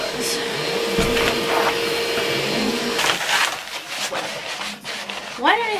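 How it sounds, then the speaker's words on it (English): A household hoover vacuum cleaner runs with a steady whirring drone, its pitch and loudness shifting as it moves about, while a person talks over it and a few knocks and handling noises sound nearby. "So if you can hear the hoover, my dad's obviously hoovering."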